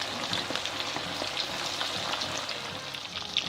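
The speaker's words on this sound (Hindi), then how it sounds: "ये फ़िश के पीसेस फ्राई हो रहे हैं।" Pieces of masala-coated fish frying in well-heated oil for a fish curry give a steady, dense sizzle with small crackling pops throughout, even in level, close and alone.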